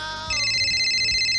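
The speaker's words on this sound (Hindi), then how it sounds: "ये किसका फोन है?" An electronic phone ringtone plays, shifting into a bright, steady ringing tone that continues to the end, with no one speaking.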